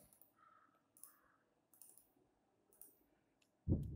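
Keystrokes on a computer keyboard entering a git add command: a few sparse, faint clicks spaced about a second apart in a quiet room, ending with a louder, heavier key press.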